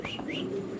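A pigeon coos once, briefly, in a soft, low rolling call amid faint chirps at a pigeon farm, with no talk.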